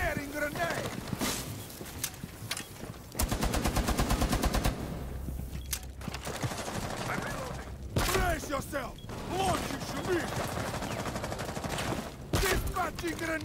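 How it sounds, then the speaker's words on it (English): Repeated weapon fire from a grenade launcher in the video game Rainbow Six Siege, with loud bursts and rapid clattering volleys in a busy, chaotic mix, while a voice calls out over the action. "Firing grenade!"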